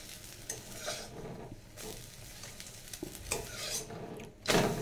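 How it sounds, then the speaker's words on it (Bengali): Two eggs frying in a pan with green chilli and salt, a steady sizzle broken by spatula scrapes and clinks against the pan, with a louder scraping burst near the end. "হয়ে গেল আমার ডিম ভাজা।"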